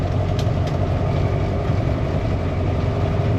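An engine idles steadily at low revs, a continuous deep rumble with no talking over it.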